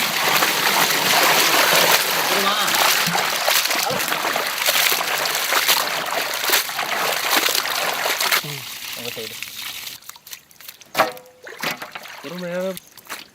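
Steady splashing and gushing water pours into mutton cooking outdoors in a village for several seconds, then stops, followed by a few spoken words and scattered clatter nearby.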